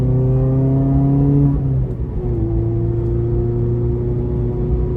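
A 2019 Mazda ND Miata fitted with an Osgiken limited-slip differential drives through a corner, its engine humming loud and steady from inside the car, dipping briefly in pitch midway before settling into a constant drone.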